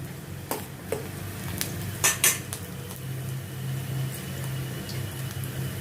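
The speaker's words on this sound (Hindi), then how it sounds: "इसको भी थोड़ा मैं सौते करती हूँ। इसमें मैं छोटा टुकड़ा अदरक का डालती हूँ।" Metal utensils clink and scrape against a pan while ginger and onion are sautéed, several sharp knocks early on, then a soft steady sizzle underneath.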